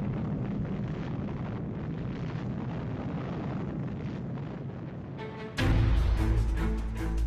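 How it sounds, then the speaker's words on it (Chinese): A large atomic bomb test explosion on the Kazakh steppe near Semipalatinsk: a long, loud windy roar rumbles for several seconds, then a sudden, louder deep blast erupts and stays heavy to the end. "苏联第一颗原子弹试爆成功"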